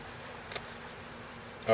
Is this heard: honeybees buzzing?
yes